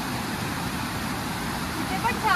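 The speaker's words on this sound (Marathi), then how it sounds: "इथे पण छान पाण्याचा खूप छान धबधबा असा आवाज येतोय मस्त." Heavy water rushing from a monsoon waterfall in a Konkan village, a steady dense roar filling the whole short stretch at close range.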